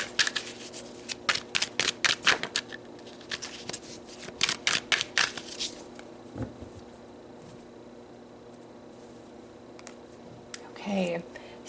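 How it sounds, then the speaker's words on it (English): Tarot cards shuffled and pulled in a quiet room: a close, soft, rapid riffling that comes in bursts, then thins to a few light taps and slides of cards, with a brief murmur near the end. "let's pull some more cards"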